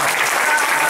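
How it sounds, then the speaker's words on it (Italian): Audience at a political meeting in Castelfranco Veneto applauding a guest: a brief, loud, dense burst of crowd clapping filling the whole second. "un applauso anche per Lana Ferro"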